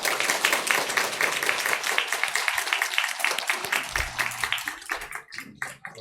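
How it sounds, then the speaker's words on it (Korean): A church congregation at a Sunday service applauds to welcome the children, a loud burst of clapping that thins into scattered individual claps and dies away toward the end, with faint voices underneath. "한번 박수로 환영해 주시기 바랍니다"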